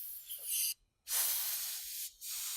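An airbrush sprays paint onto custom Converse sneakers, giving a close, steady high hiss in bursts, with one clear pause and a brief dip between sprays, and no voices.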